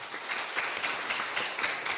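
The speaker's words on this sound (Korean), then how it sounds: "우리 위로의 박수 부탁드리겠습니다." A church congregation at a Communion Sunday service claps in comfort for a bereaved family, giving a fairly loud, steady patter of many hands with individual claps audible throughout and no one speaking.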